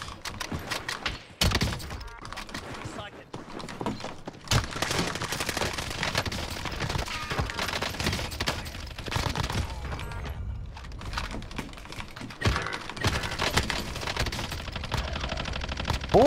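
Rapid automatic gunfire and bursts of shots from a Warzone match, loud and dense throughout with brief pauses, over game background noise.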